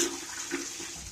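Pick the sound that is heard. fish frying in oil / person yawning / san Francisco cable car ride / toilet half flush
toilet half flush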